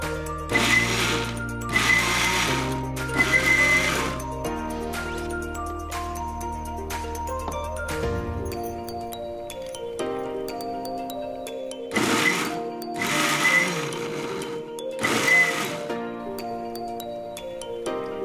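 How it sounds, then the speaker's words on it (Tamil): A mixer grinder blends mango pieces in loud bursts of motor whine, starting and stopping repeatedly with pauses between pulses, close up and without talk. "நம்ம கொஞ்சம் கொஞ்சமாக மாம்பழத்தை சேர்த்து அரைச்சிக்கலாம்"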